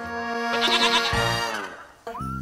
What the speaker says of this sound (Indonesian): kambing iya disebut sapra persilangan jenis sanen dan etawa kambing perah penghasil susu